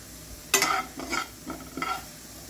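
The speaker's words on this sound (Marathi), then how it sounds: "आता इकडे भाजते मी तीळ।" Sesame seeds dry roast in a pan, stirred in four distinct scraping bursts, each a rustling, crackling sweep of seeds against metal, close and brief, with quiet pauses between.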